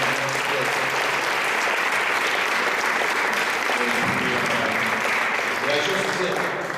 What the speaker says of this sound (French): alors, on les applaudit tous encore très très fort.